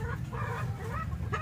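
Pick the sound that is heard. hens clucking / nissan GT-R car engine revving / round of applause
hens clucking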